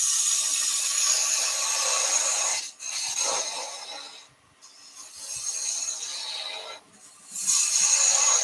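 A spindle gouge cuts wood spinning on a lathe, a bright rasping hiss in steady passes that break off briefly twice before resuming, close and moderately loud with no talk.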